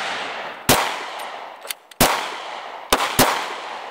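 Shots from a Smith & Wesson .40 caliber pistol at an outdoor range, four sharp, loud reports fired at irregular intervals, each followed by a brief echoing tail.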